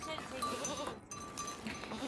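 Goats bleating at a farm shed, a few short nasal calls mixed with background voices and farmyard noise, moderately close.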